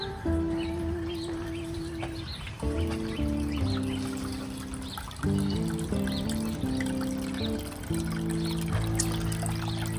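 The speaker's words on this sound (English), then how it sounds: "I just love their water fountain out here." An outdoor garden water fountain beside bonsai trees at a home trickles steadily and continuously, with bird calls and sustained tonal sounds layered over the flowing water.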